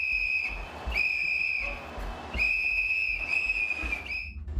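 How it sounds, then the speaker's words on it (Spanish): Long blasts of a shrill whistle repeat at an office facility during an earthquake evacuation drill, loud and steady over a low background rumble. "sonó el silbato que indicó que era la hora de evacuar las instalaciones de Telemax"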